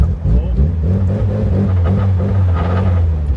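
An old Mitsubishi Lancer Evo with no tune idles and rumbles steadily up close, a low engine drone holding throughout without talk.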